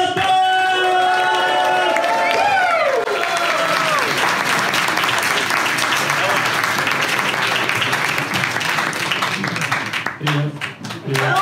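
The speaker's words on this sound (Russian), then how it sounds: "Встречайте бурными аплодисментами Кирилл" A stand-up comedy audience breaks into loud, sustained applause and cheering close by, filling the room and fading slightly near the end.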